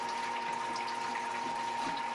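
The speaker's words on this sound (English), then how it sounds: "We'll add our sparge water real slow." Sparge water trickles slowly onto the grain bed while brewing a Founders Breakfast Stout clone, a steady close hiss of running water with a faint constant hum behind it.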